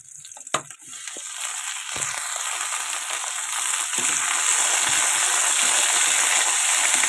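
Mint leaves hit a pan with green and dried chilies, starting with a few clatters and a splash, then settling into a loud, steady sizzle that builds and holds throughout.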